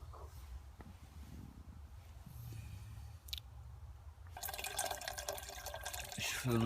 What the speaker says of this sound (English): Just filling up my water.